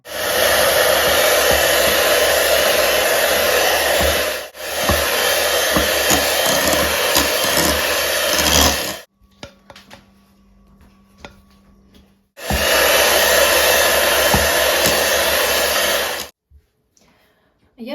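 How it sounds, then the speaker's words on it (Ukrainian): An electric mixer whirs steadily as it beats cream with melted chocolate for a birthday chocolate cake, loud continuous buzzing broken by two short pauses and a few quiet clinks. "Додаємо шоколад розтоплений і збиваємо."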